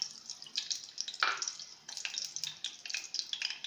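Cooking oil poured into a pan for tomato chutney gives a soft, uneven trickling and light sizzling patter, close by and fairly quiet, with no talk.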